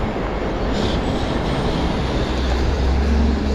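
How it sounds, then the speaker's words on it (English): Heavy trucks, a bus and other traffic roll past on a narrow Sydney street with a bus lane, making a loud, continuous low rumble that swells slightly toward the end, with no voices. "The only good thing with the trucks is you can hear them coming."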